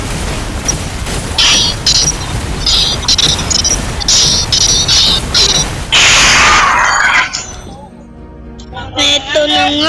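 A video game turret being destroyed, with repeated mechanical clanks and booming impacts building to a heavy crash around the sixth second, followed by a crumbling fade and chiming game effects, amid busy in-game noise.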